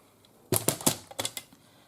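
Scissors snip through a sheet of acetate in a quick run of about six sharp, crisp cuts, close and clear against a quiet room.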